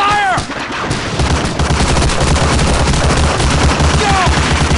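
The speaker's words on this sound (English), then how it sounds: "Covering fire!" Covering gunfire in the World War II shooter Medal of Honor: Allied Assault, a dense, loud, continuous fusillade of rifle and machine-gun fire with booming impacts that keeps going throughout, with brief shouted voices near the start and end.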